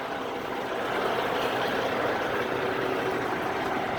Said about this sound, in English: truck's louder than crap